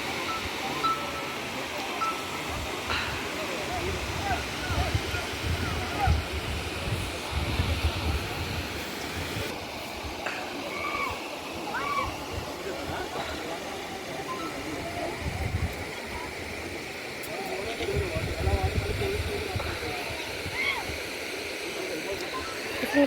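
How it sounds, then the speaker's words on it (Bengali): Water of the Ananthagiri waterfalls rushes and flows downhill in a steady, broadband roar, moderately loud and continuous, with occasional splashes. "দেখছো ফলসের জল নিচে অবধি বয়ে চলেছে।"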